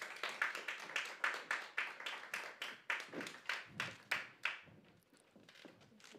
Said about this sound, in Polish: Bardzo wielkie brawa dla Małgorzaty.